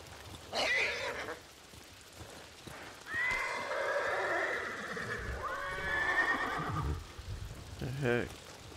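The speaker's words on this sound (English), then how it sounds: "It's like the horses are talking to each other." Horses in the video game Ghost of Tsushima whinny loudly in long, wavering neighs, with hooves clip-clopping and a low rumble of movement in the background.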